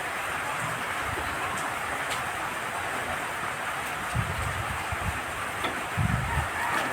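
Steady, unbroken rain pours down at a mountain house, a dense even hiss with occasional low thumps of drops or movement nearby.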